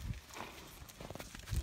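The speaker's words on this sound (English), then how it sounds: "I'm scared of these horses." Horses at a ranch walking nearby, with soft hoof clops and low thuds at the start and end amid faint background noise; no one speaks.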